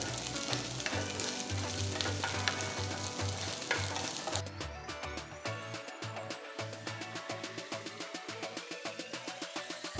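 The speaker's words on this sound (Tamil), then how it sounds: "அடுத்து குடமிளகாய் துண்டுகளை போட்டு 2-3 நிமிஷம் வதக்கி எடுத்து வைங்க" Capsicum pieces sauté in a pan for a paneer walnut curry, giving a continuous crackling sizzle broken by stirring and scraping, close and on its own with no talk.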